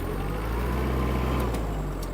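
Four-cylinder engine of a Kubota X-20 Japanese mini tractor pulling up to speed, a steady close drone with a low hum, no talk.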